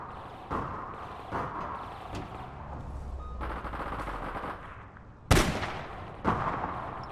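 Gunfire in the online shooter APB Reloaded: several separate shots land at irregular intervals over a steady background rumble, with one especially sharp, loud crack near the end followed by another shot.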